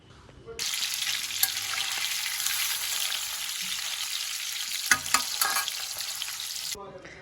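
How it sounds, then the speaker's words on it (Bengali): Chitol fish dumplings (muitha) frying in oil in a kadai give a loud, steady sizzle that starts abruptly and runs continuously, with a few sharp crackles and pops near the end. "এবারে কড়া বসিয়ে তেল দিয়ে আমি মুইঠাগুলোকে একে একে ভেজে নেবো একটু লাল লাল করে"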